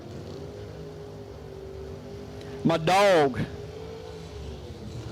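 A drag racing car at a Labor Day $250K drag race event revs sharply once, climbing and falling in pitch for under a second, then drops away while an announcer keeps talking over the track noise.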